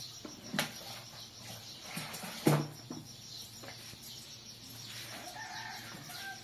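Faint farmyard chickens clucking at a distance outside a village tiffin centre on a cold morning, with a rooster's crow rising briefly near the end over quiet outdoor ambience.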